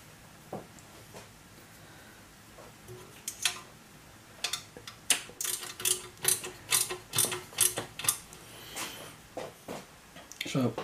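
Exhaust header bolts being tightened on a Ducati XDiavel during a Zard exhaust fit, heard as a run of sharp, rhythmic ratchet clicks in quick bursts, close by and fairly loud, with occasional quiet movement before the clicking.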